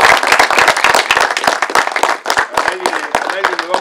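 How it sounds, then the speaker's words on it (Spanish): Audience clapping at a health clinic renovation inauguration, close, loud, dense handclaps, with a voice speaking over the later part. "un aplauso porque Lali"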